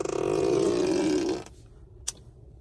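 A novelty fart sound effect played by a Tesla Model X in its emissions mode, a long, loud, rippling low raspberry lasting over a second that fades out, followed by a brief sharp click.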